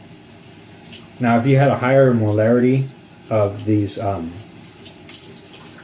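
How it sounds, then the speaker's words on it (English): Tap water runs steadily into a lab drain during a chemistry demonstration, a low continuous wash of flow sitting beneath a person speaking close up. "you can hear me, like how long I've been running this water for, just to make sure that it's well diluted"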